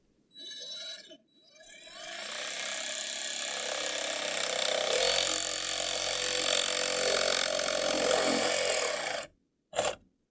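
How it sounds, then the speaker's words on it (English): A DeWalt cordless jigsaw with a plunge-tip blade bores into and cuts through wood for a chicken coop nest box, a loud sustained buzzing rasp running for about eight seconds after a short start, then a brief final burst. "We're using the DeWalt cordless jigsaw."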